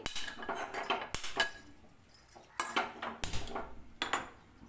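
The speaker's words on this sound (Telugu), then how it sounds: "ఒక కడాయి పెట్టుకొని దాంట్లో ఆయిల్ వేసుకోవాలి" A kadai pan being set on a home stove while frying okra, with several metallic clanks and clinks of cookware, close and fairly loud, in separate bursts.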